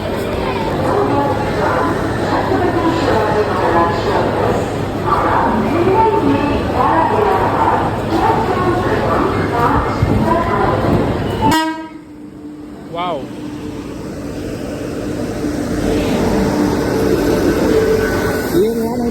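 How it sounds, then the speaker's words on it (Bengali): A train pulls into a busy railway station platform, with loud horn toots, rumbling wagons and a roaring approach, then squealing brakes, while people talk nearby throughout. "এক কি দুই ট্রেনটা ঠিক ঠিক আসবে এই দিক থেকে"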